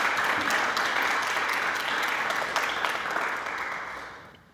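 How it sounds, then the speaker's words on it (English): An audience claps warmly to welcome a guest onstage at a yoga talk, a steady dense round of applause that holds for a few seconds and then fades out quickly. "So let's give Rachel a big round of applause."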